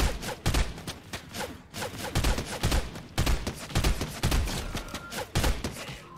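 Fortnite gunfire in a collegiate esports match: rapid, repeated bursts of loud shots with sharp impacts, some in quick automatic strings, continuing throughout with no talk over them.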